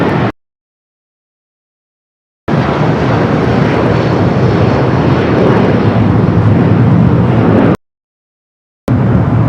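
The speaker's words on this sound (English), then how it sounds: "We do have a United 757-300 now rolling down that 25 at right." A United Boeing 757-300 takes off on runway 25 right at LAX, its jet engines roaring loud and steady for several seconds between abrupt silent gaps, with no talk over it.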